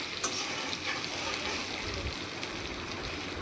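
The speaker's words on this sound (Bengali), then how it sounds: "আলুগুলো আগে একটু সেদ্ধ করে নিয়েছিলাম ডিমের সাথে, এবার ভালো করে ভেজে নিচ্ছি" Boiled potatoes and eggs frying in a pan with ginger, a steady close sizzle with a few faint clinks, no talking.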